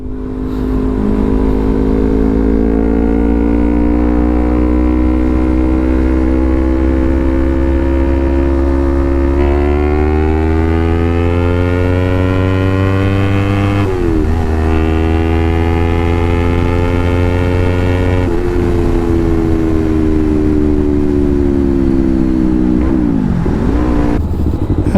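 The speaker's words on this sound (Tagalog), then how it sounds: "Traffic traffic." Road traffic of cars and motorcycles on a busy morning street with many vehicles turning, heard as a loud, continuous engine drone with rising and falling revs nearby, no talking.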